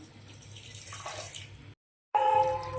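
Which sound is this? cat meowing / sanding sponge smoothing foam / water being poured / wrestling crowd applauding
water being poured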